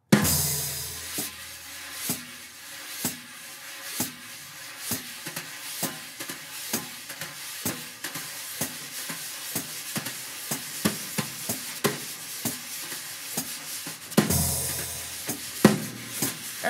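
Jazz brushes swirl steadily across a snare drum, a soft continuous swishing with regular light taps marking a slow, even pulse, alone and close.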